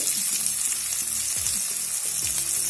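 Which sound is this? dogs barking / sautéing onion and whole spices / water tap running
sautéing onion and whole spices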